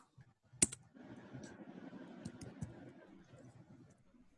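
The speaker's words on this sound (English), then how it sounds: "I'm typing it out, huh?" Quiet typing on a computer keyboard, a sharp click near the start followed by a soft, continuous patter of keystrokes close by.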